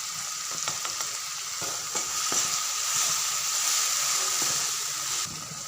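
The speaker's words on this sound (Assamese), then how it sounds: "এতিয়া ইয়াতে বিলাহীখিনি দি ভাজিম" Tomatoes and spice masala fry in a pan with a bright, steady sizzle, punctuated by several sharp clinks and scrapes of stirring nearby, with no speech.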